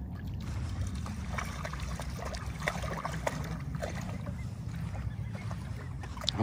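A Norwegian Elkhound splashing in shallow water at Port Williams Beach, giving a continuous close wash of sloshing and rippling water with no voices.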